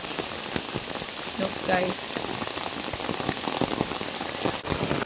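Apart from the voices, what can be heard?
heavy rain falling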